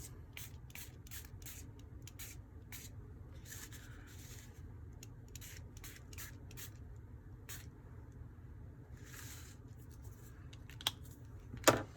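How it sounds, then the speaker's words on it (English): Quick, quiet spritzes from a Stampin' Up! Stampin' Spritzer pump spray bottle spraying ink, repeated in short bursts with brief pauses, close by over a low steady hum. "And you literally just spray."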